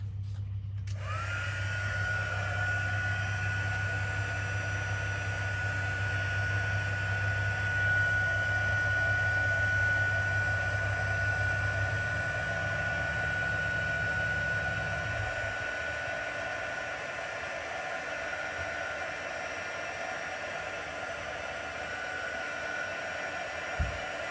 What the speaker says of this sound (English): now let's see if I can use the heat gun to speed along this drying process